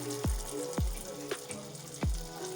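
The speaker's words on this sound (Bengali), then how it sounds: "আমি এবার মাংসগুলো দেব তেলের মধ্যে। একটা একটা করে ভেজে নিতে হবে পকোড়ার মতো।" Chicken pieces for chicken manchurian go one by one into hot oil, giving a quiet, steady sizzle broken by several soft drops and splashes, with no talk.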